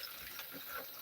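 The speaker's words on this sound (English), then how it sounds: "So gonna rinse my hands off." Water running from a tap while hands are rinsed under it, a steady soft splashing wash at low level, no voices heard.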